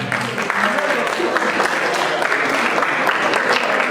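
Sustained audience applause at a ceremony where participants are called up one by one, dense steady clapping throughout at fairly loud level.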